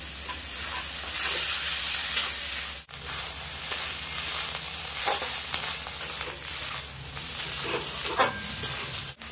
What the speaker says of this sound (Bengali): এবার দিয়ে দেবো বেটে রাখা আছে ব্যাটকল পাতা, যেভাবে মশলার সঙ্গে সুন্দরভাবে নেড়ে নেবো।